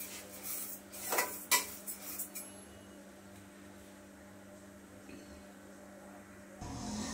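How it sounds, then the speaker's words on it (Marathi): Rice stirred and roasted in a kadhai (wok), a few metal scrapes and clinks of a spoon against the pan early on, then quiet low hum. "हे तांदूळ भाजण्यासाठी छान असं आपण परतत राहायचं"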